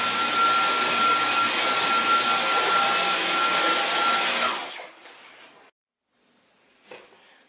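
A cordless vacuum cleaner, either a Dyson V11 or a Henry HVB160, whines loudly and steadily up close, then powers down at about four and a half seconds, trailing off into quiet with a few faint knocks.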